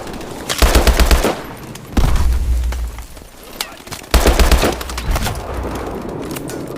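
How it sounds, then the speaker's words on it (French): Suppressing fire in Call of Duty: Advanced Warfare: loud, close bursts of automatic gunfire arriving in three heavy waves, with sustained rattling shots and battle din filling the gaps between them. "Tire de suppression!"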